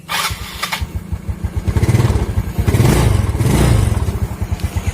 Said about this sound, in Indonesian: jadi udah hidup mesinnya, gas-gasannya pun enak